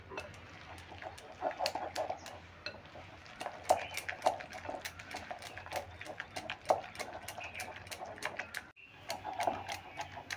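Bread-snack ingredients being stirred into tomato paste in a bowl, with quick clinking spoon-on-bowl taps and wet mixing scrapes in an irregular, steady rhythm, close and moderately soft.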